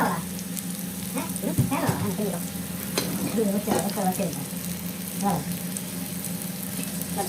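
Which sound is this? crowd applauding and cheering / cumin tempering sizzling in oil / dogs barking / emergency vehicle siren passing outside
cumin tempering sizzling in oil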